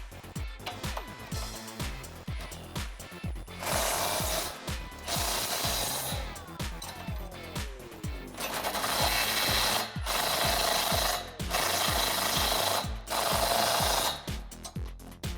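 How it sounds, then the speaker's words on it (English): A ratchet and wrench tighten 17mm bolts on rock sliders fitted to a Jeep Gladiator JT, heard as fast close ratchet clicking in repeated strokes between longer grinding, rasping bursts, with no talk. "we can start by tightening up the bolts that we just installed using a 17mm wrench and a"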